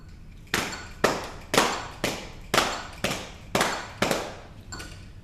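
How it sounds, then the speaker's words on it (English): Hands clapping in eighth notes, about two claps per second in an even rhythm, nine sharp claps in all, each with a short ringing decay, close and alone. "If we clap eighth notes with our pulse,"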